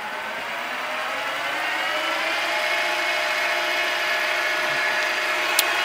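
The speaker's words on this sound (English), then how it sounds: "if I'm going to run the mill manually" An IMO Jaguar Cub milling machine running on a VFD at 800 RPM in the gear head, giving a steady, even motor whine and whir close by, with one brief tick near the end and no talking.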